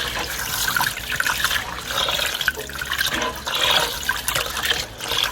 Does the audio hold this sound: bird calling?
no